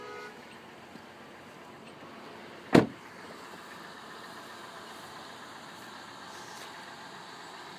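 An Acura MDX SUV engine idles with a low, steady hum throughout, broken once by a sharp, brief click or knock.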